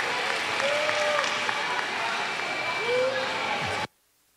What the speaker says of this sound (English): give a round of applause for all of our girls today